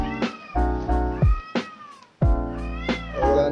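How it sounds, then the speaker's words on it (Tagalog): A cat meows several times, loud and close, with drawn-out, complaining, caterwauling cries separated by short pauses. "Wala na naman yung pusa namin."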